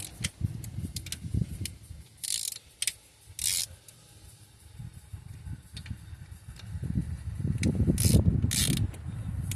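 Ratchet working loose the inner and outer intake bolts and studs on an engine, a run of quick clicking bursts with brief gaps, then a louder busier stretch of ratcheting and clinking metal close by.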